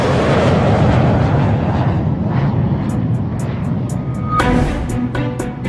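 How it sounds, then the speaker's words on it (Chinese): A C919 large passenger jet under testing at Shanghai Pudong gives a loud, close, broad engine roar that swells and fades, with sharp repeated ticking sounds appearing over it toward the end. "C919 大型客机正在这里进行测试"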